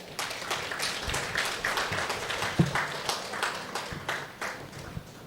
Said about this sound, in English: Let us welcome all our distinguished dignitaries with a warm round of applause.